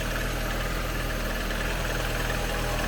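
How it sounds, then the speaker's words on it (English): A Mini Cooper engine with an electric supercharger hooked up runs at a steady idle, its even mid-pitched drone and faint knocking vibration continuing alone and unchanged from start to finish. "Seems to be running fine with this supercharger hooked up to it."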